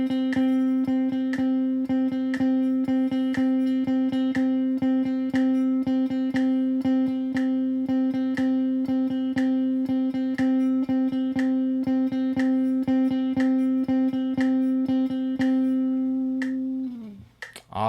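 Guitar chugs a steady galloping sixteenth-note rhythm over a droning low note, evenly repeated sharp attacks continuing for roughly sixteen seconds before the sound breaks off abruptly; close, loud and unaccompanied by speech.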